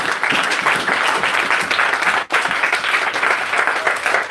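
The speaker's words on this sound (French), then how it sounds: "Applaudissons pour le Seigneur." A church congregation claps together in steady, dense applause, loud and continuous with only a brief dip partway through, and no one speaking over it.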